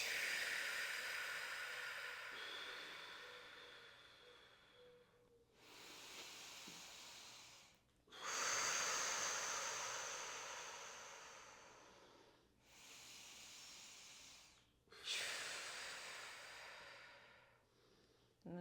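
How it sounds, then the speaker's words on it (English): Slow, deep breathing during a restorative reclined yoga pose: long textured inhales and exhales in broad breathy swells, about five or six breaths with short pauses between them, close and fairly quiet. "textured, conscious inhales and exhales."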